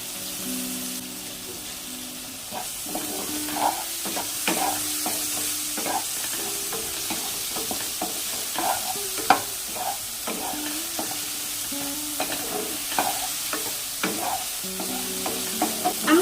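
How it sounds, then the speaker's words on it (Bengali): Salted, turmeric-dusted eggplant slices fry uncovered in hot oil in a pan, giving a steady soft sizzle with scattered crackles and pops, plus occasional clinks of stirring, with no talk. "বেগুনগুলোকে ঢেকে দেবো না এইভাবেই ভেজে নেব"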